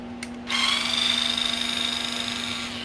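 A power tool whirs steadily as it backs out screws while rebuilding a Konica Minolta DR-512 unit, a short click followed by a sustained close, loud buzzing drone.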